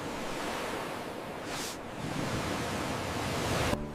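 Ocean waves wash and surge in a steady broadband roar, with one brief swell in the middle and no voices.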